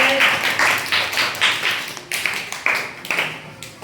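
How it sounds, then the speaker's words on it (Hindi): Classroom applause for a pupil in a village primary school, several children clapping in uneven rhythmic bursts, close and fairly loud, with no talking over it. "5000 तालियां भाई इनके लिए"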